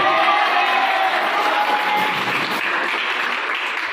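An audience at a sports prize-giving ceremony applauds a 1500-metre race winner with loud, sustained clapping and a few scattered cheers.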